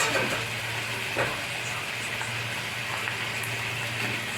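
Fried hilsa fish head dropped into a pan of fried bitter gourd and potato, giving a steady, soft sizzle with faint stirring scrapes throughout.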